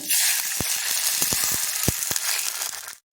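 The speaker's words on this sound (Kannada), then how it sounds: "ಈಗ ಇದಕ್ಕೆ ನೀರು ಹಾಕ್ಕೊಡ್ತಾ ಇದ್ದೀನಿ" Loud, steady sizzle as water hits a hot oiled pan while cooking Gujarati kheechu, a bright hiss with scattered crackles and pops, stopping abruptly near the end.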